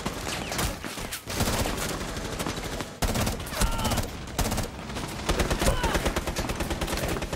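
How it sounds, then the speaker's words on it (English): Rapid pistol gunfire in the video game Rainbow Six, a dense, loud string of shots fired in quick bursts with brief gaps, filling the whole stretch. "can I see how fast he was shooting this pistol really fast?"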